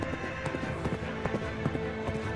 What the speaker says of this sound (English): That horse is the best!